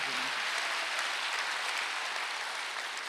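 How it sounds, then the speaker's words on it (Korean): Soft, distant applause from a congregation at a Wednesday worship service in a Korean church, a steady, even patter of clapping lasting about three seconds without any clear voice. "박수 한번 주세요"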